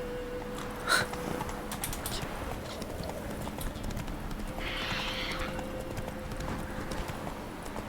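Steady clip-clop of horse hooves in The Witcher 3 video game at a quick, even pace, fairly close, with a brief whinny-like burst early on and a faint background hum.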